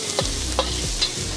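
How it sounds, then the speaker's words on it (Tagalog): Onions sautéing in a pan for Macanese minchi of minced beef and pork, a steady loud close sizzle with a few stirring scrapes, no talk. "magigisa na tayong sibuyas"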